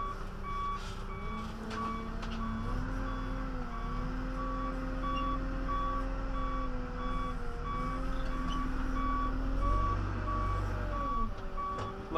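A 2006 John Deere 310 SG backhoe runs with a steady diesel rumble while its reversing alarm beeps continuously in a regular pulse. The engine swells slightly near the end, and no one talks.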